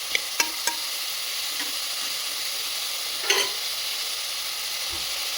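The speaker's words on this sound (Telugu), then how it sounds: "బాగా నూనెలో మధ్య వరకు వేసిన తర్వాత మనం బచ్చల కూరని వేసుకోవాలి." Malabar spinach frying with onions in hot oil gives a steady, close sizzle throughout, broken by a few sharp clicks of a utensil near the start and a brief stir partway through.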